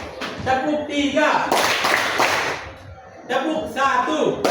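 A classroom plays a counted clapping game, with children clapping in sharp, ragged bursts between spoken instructions as a voice calls out the counts.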